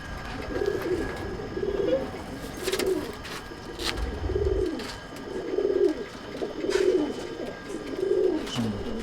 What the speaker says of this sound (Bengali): জোড়াদারির ঘরে একটা উড়ানের পায়রা দাদা রেখেছে